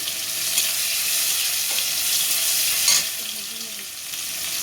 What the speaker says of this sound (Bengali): মশলাগুলো খুব ভালোভাবে ভাজা হয়ে গেছে